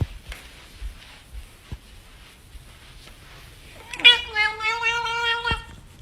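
A cat meowing up close, a single drawn-out, strongly voiced meow partway through, preceded by quiet shuffling and light bumps.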